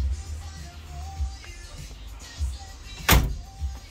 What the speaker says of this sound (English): The door's shut like butter.